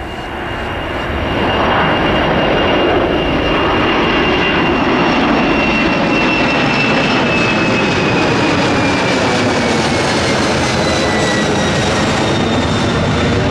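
A jet airliner takes off at Miami International Airport with a loud, close, continuous roar that swells quickly and holds steady for over ten seconds, shifting whining tones riding on top.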